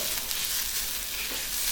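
A steady, continuous sizzle of grated coconut sautéing in a hot pan, close and even throughout with no voices.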